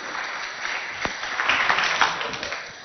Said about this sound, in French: applaudissez pour tous les candidats qui sont passés ici.